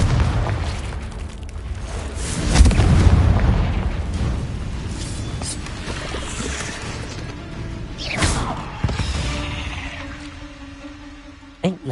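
Confringo fire spells burst in Hogwarts Legacy combat: a deep, rumbling blast swells early and lingers, followed later by whooshing magical impacts and mechanical clatter, ending with a short sharp hit.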